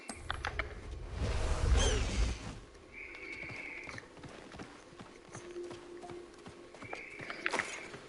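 A horse in the Hogwarts Legacy video game whinnies and its hooves clip-clop, with a heavier thud early on, then steady hoof beats and high neighs at moderate volume.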